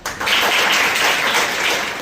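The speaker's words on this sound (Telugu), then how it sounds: "Very good claps." Audience applause at a mobile phone usage awareness session, a steady burst of many hands clapping together for about two seconds, fairly loud and continuous with no talk over it.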